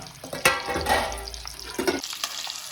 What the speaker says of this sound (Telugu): ఇప్పుడైతే ఎగ్స్ చేసుకున్న తర్వాత ఒక టూ మినిట్స్ అయితే మనం ఈ విధంగా ఫ్రై అయితే చేసుకోవాలి